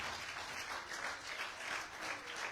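Steady applause from a church congregation, a dense wash of many hands clapping continuously at moderate volume.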